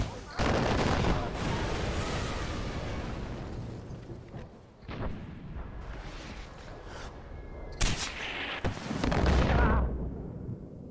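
Mortar blasts and gunfire in the video game Far Cry 4, with heavy sustained firing and booming impacts, a sharp loud burst near the end, and voices audible in the mix.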